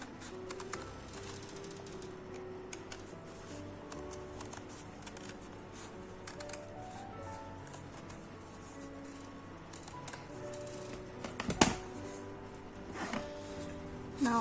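Scissors snip a paper mask to cut out an eye hole: quiet, scattered crisp clicks and paper rustles, with one sharper cut near the end, in a still room.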